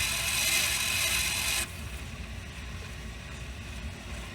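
Tape rewinding inside an Apex ADV-3800 VCR: a steady, fairly loud whirring mechanical rush that drops abruptly to a quieter, lower drone as the transport slows, with no talking.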